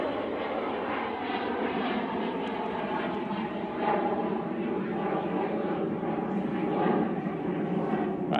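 A Boeing 737 jet airliner at Manchester Airport gives a steady, broad engine roar held at fairly constant loudness throughout, with faint talk in the background.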